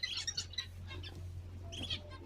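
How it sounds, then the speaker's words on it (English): Small caged canaries chirp in quick, high bright bursts, a cluster at the start and another near the end, fairly faint over a low steady engine hum inside a minivan on Gran Canaria. "It must be canaries."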